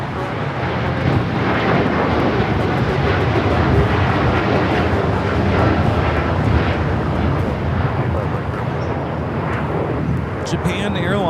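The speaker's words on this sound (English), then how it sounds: "Japan Airlines Flight 69 taking off to Osaka on the 787-9 Dreamliner" Japan Airlines Boeing 787-9 Dreamliner taking off at Los Angeles International Airport, a loud sustained roar of jet engines at full thrust filling the air, steady and close throughout.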